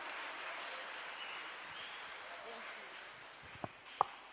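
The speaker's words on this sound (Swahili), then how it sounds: "Tuendelee kumpigia makofi apate hiyo motisha." A congregation applauds during a Sunday church service. The clapping is faint, distant and steady, and a few sharper claps stand out near the end.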